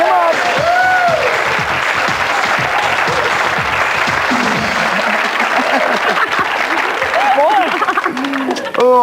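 A studio audience claps and cheers for a couple, loud sustained applause with whoops and laughter running nearly the whole time, while a host speaks over it.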